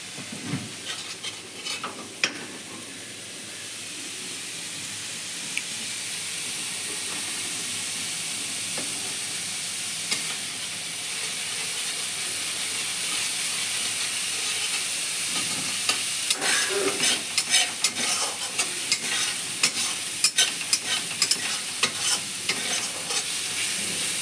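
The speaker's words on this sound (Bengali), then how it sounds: "এইভাবে পেঁয়াজটা ঘষে ঘষে নাড়তে" Onion frying in a pan for doi katla, a constant soft sizzle and hiss with scattered scraping stirs that grow busier toward the end, heard up close with no voices.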